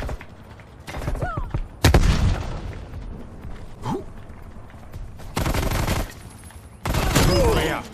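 Gunfire and explosions in the Black Ops Cold War VIP Escort match, with loud broadband bursts of shots, a sharp blast near the two-second mark and more heavy bursts later, plus scattered game sounds in between.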